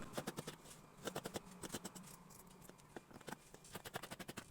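Scissors cut through fabric for a baseball cap panel, a quick run of crisp, evenly spaced snips in close bursts with short pauses between them.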